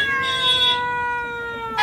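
A cat gives a long, loud, drawn-out meow with a strained, caterwauling quality, close up and continuous for nearly two seconds, with no talking over it.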